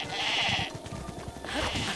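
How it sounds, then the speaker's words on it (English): Sheep bleat in a video game, two loud, wavering cries close together that fill the short moment. "Uh-oh, that's the sheep."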